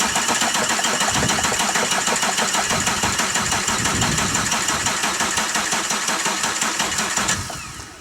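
Diesel engine, a direct-injection type, cold starting on ether: a loud, steady rapid knocking clatter running for about seven seconds, then cutting off abruptly near the end.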